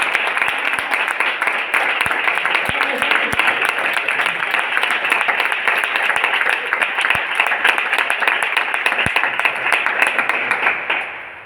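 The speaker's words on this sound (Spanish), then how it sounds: "Un aplauso." A crowd applauds at a talk on the Romani view of flamenco, giving a loud, sustained round of dense clapping that holds steady before ending abruptly.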